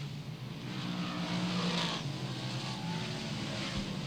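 A pack of 358 modified race cars roaring around an oval track out of turn two and down the backstretch, a dense steady engine drone with a car swelling past midway, loud and continuous.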